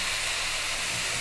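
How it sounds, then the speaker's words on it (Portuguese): Cachaça poured into a hot pan over low heat for arroz carreteiro makes a loud, constant hiss and sizzle that fills the short moment without a break. "estou adicionando a cachaça."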